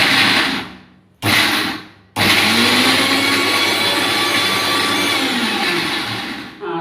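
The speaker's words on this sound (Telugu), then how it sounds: "ఇంకోసారి మిక్సీ కూడా పట్టి చూపిస్తున్నాను చూడండి" A mixer grinder grinding jaggery whirs loudly in short bursts, stopping twice briefly, then runs steadily with a grinding, rattling hum.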